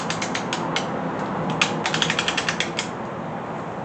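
A ratchet torques connecting rod bolts on a small-block Chevy 350 engine, giving rapid, close, crisp mechanical clicks in short runs that quicken into an even rhythm, with no talk.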